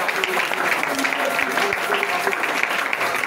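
Church congregation applauding and cheering during a French-language worship service, a steady, dense wash of clapping that fills the room without pause, with scattered voices mixed in.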